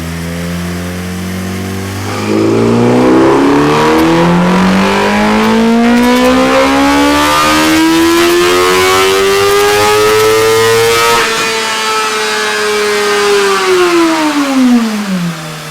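A 2017 Suzuki GSX-R1000 motorcycle engine held at full throttle after a short idle, its pitch climbing into a sustained, loud high-rev wail, then dropping away at the end, with no talk over it.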